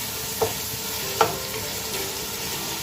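Sautéed zucchini cubes with Ligo sardines and cherry tomatoes stirred in a frying pan: steady close sizzling with two distinct clacks of the spatula against the pan.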